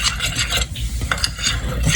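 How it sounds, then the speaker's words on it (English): Dry ingredients of cinnamon, nutmeg and salt for a Jamaican sweet potato pudding are stirred in a bowl, producing close, rhythmic scraping and rasping strokes with no talk. "mix my dry ingredients"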